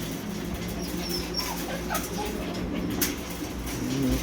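Pomeranians and a Shih Tzu at a kennel make faint, scattered whines and small vocal sounds over steady background noise, close by but soft.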